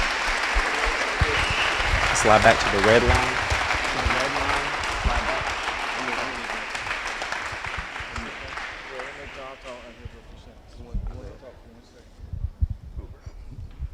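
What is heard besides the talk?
audience applause for Hall of Fame inductees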